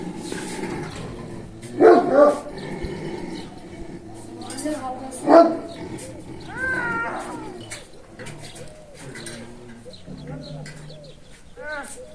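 A dog gives two sharp barks a few seconds apart, with people talking and laughing throughout.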